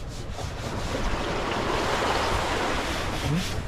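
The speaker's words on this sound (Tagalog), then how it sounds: "Sarap pakinggan ng tunog ng alon no?" Ocean waves wash steadily onto a shore near Polillo Island, a continuous broad rushing surf mixed with wind buffeting the microphone.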